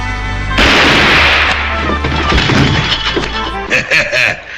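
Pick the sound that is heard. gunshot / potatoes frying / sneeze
gunshot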